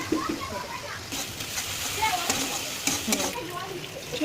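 Masala with Kashmiri chili powder frying in a pan over a low flame gives a soft sizzle with scraping and stirring sounds, while a voice talks throughout.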